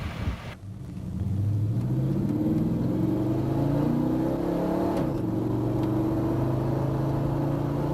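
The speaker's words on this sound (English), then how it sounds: "try some upshifts at 3/4 throttle to see how the shifts get firmer with throttle" A car with a Transgo-modified 4L60E transmission is driven through upshifts at three-quarter throttle. After a brief quiet start, a loud, steady engine drone rises in pitch, drops at a gear change, then climbs again.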